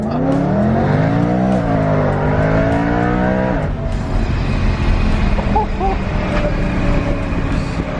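A supercharged BMW M3 engine drones loudly from inside the car, its pitch rising and falling under acceleration before settling into a steadier, rougher note as it drives on.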